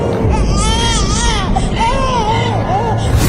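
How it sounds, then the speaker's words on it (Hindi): A baby girl in a Hindi animated cartoon cries loudly and continuously, with wavering, rising and falling wails over a dense, noisy background. "वो रो रही है।"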